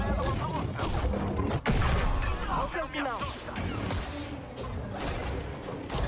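Blaster shots from enemies in Star Wars Jedi: Survivor crack and whoosh amid crashing impacts and sabre deflections, a busy, continuous combat mix with a voice now and then.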